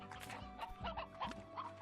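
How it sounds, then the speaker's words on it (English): Hens clucking in the video game Slime Rancher, a busy run of short clucks and squawks at moderate volume over faint steady background music. "we'll bring some hens to feed them"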